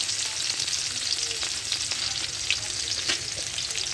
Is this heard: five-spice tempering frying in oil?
yes